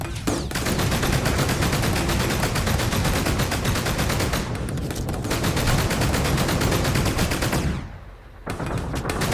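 Naval gun turret in the survival game Sunkenland firing without pause, a continuous loud rattling stream of rapid shots that drops out briefly near the end before resuming.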